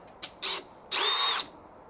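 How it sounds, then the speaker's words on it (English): A power drill drills a pilot hole through a Ford Transit Custom van panel for installing Sortimo SR5 racking: two short whirring bursts, then a longer, louder run, close by with no talk. "So let's drill this one out first."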